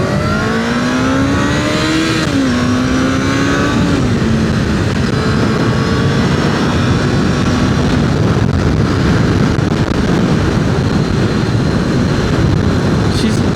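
A Honda CBR 600 F4 motorcycle engine revs hard and accelerates, its tone climbing steadily in pitch before settling into a sustained roar buried under heavy rushing wind noise.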